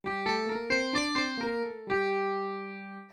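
A Taishogoto heard only through its pickup: a quick phrase of twangy plucked strings with shifting pitches, then a final note sustaining and slowly fading, close-up with no voices.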